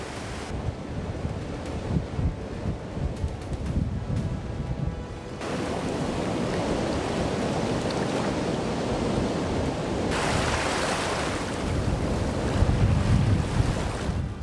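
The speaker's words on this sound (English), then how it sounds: "The Little Sioux River surges powerfully, carrying large chunks of drifting ice over a dam in a chilling moment" The Little Sioux River surging over a dam with large chunks of drifting ice, a steady loud roar of rushing water with rough wind buffeting, continuous throughout.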